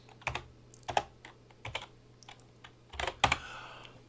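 Typing on a computer keyboard, clustered bursts of key clicks separated by short pauses, fairly close and clear over a low steady hum, with no voices.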